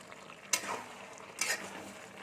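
Yardlong bean and pumpkin curry simmers down in a pan, a faint soft bubbling sizzle broken by two brief scraping stirs of a spoon.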